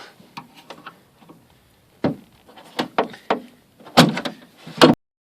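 Plastic tabs on a Volvo S80 trunk latch pushed in with a screwdriver: a series of sharp plastic clicks, taps and knocks, sparse at first then clustering into louder snaps near the end, close and without talk.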